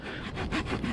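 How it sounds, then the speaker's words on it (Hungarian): Small saw blade of a Nextool Flagship Captain multitool cutting a log, three or four close, rhythmic rasping strokes of wood sawing, loud and alone. "akkor bizony ezt a nagyobb rönköt is könnyedén el tudjuk vágni ezzel a kicsi pengével"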